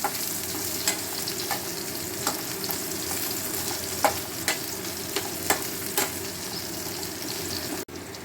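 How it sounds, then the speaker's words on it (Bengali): Small pieces of pointed gourd and potato frying in oil with nigella seeds, a steady close sizzle broken by periodic scraping clicks of stirring, then a sharp knock near the end, no voices. "কালো জিরের গন্ধ বেরোতে আমি এতে পটল আলু ছোট করে ছেড়ে দিলাম এবং আস্তে আস্তে এগুলো ভাজা শুরু করেছি।"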